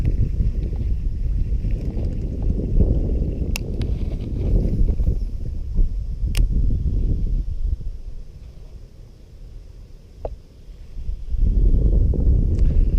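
Strong wind buffeting the microphone on a Florida shoreline, a loud continuous low rumble that eases briefly near the end before surging back, with faint clicks over it.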